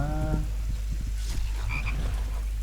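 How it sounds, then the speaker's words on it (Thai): A frog croaks continuously close by, steady rhythmic croaking with background chorus, no voices over it. "อุ้ยไอ้กบ"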